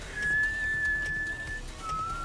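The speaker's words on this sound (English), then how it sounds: "The whistle." In the fighting game Tekken 7, a clear, sustained whistle tone holds for over a second, then a second, shorter and lower whistle follows over a steady background hum.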